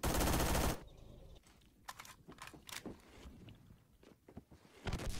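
In the online shooter game Phantom Forces, a loud automatic gunfire burst opens the clip. Scattered quieter shots and footstep-like thumps follow, and louder firing returns at the end.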